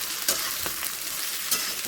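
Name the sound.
capsicum, carrot, beans and green chilli frying in pan after onions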